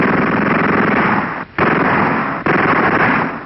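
Loud, dense bursts of machine-gun fire rattle continuously as a sound effect for the Tsar and his family being shot, cut by two very brief gaps.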